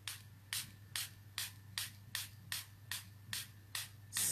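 Repeated bursts of a hand-pumped spray bottle misting rubbing alcohol mixed with copper shimmer paint, about ten short even puffs at a steady half-second rhythm, close and clear over a low constant hum, with no talking.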